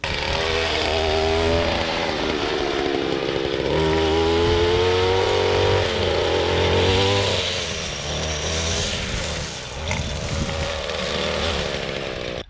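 Gas weed whacker running steadily and loud around young Christmas trees on a hay farm, engine pitch rising and dipping as it trims, with no talk over the whine.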